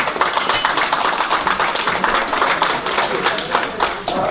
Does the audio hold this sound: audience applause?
yes